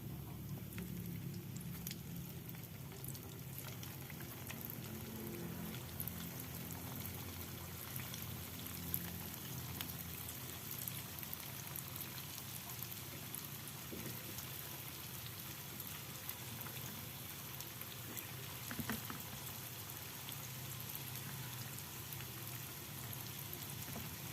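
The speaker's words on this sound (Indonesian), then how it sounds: "Kemudian kita lanjutkan menggoreng berikutnya." Steady crackling sizzle of comro, cassava fritters, deep frying in hot oil: a continuous dense hiss with no talking, holding at a constant level throughout.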